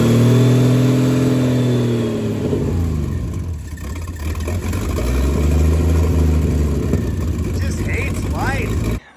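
Turbocharged slant six engine of a 1963 Plymouth Valiant running a new EFI system, revving up and down in loud, close swells with an uneven low drone, ending with a short abrupt cutoff and a faint voice at the end.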